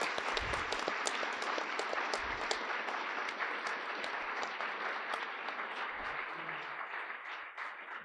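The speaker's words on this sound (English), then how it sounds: "So please give them a round of applause." A crowd applauds steadily for several seconds, a dense, sustained clapping heard from within the room with a few louder claps standing out.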